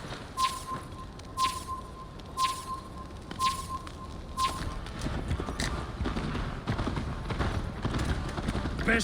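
Horse galloping in the video game Assassin's Creed Valhalla, a steady clip-clop of hooves running throughout, with regular rhythmic hoofbeats and distant voices heard faintly in the game mix.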